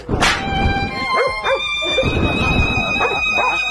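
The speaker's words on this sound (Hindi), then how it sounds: "इतना होने के बाद भी ये दूसरा कुत्ता रुकने का नाम ही नहीं ले रहा था" Dogs yipping and barking at a horse outdoors, a few short close barks with whimpering yelps over a steady background of ambient noise.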